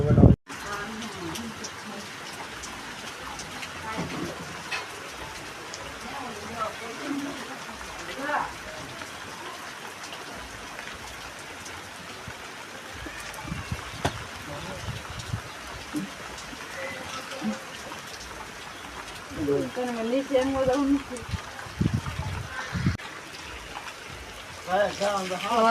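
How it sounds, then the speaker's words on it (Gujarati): Light rain falling in a village, a soft steady patter and trickle of drops that swells near the end, with people talking over it. "તો ભાઈ ધીમો ધીમો વરસાદ ચાલુ થઈ ગયો છે ને."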